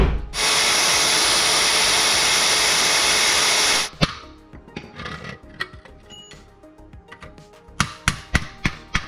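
A power tool cuts off a GR car seat rail, giving a loud, steady, close whine for about four seconds before stopping, followed by scattered clanks and taps of metal handling.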